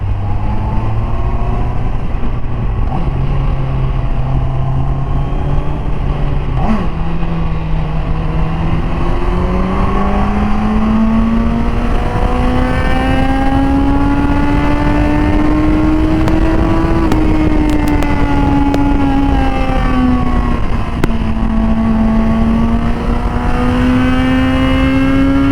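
A QJmotor Race 800 motorcycle engine revs steadily and close, its pitch slowly climbing, dipping and rising again in a continuous loud drone with no talk over it.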